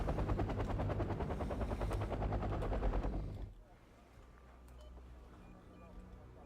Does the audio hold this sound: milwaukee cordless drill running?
no